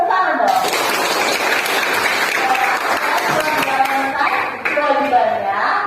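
Students in a classroom burst into clapping together, a dense sustained round of applause lasting several seconds with light chatter mixed in.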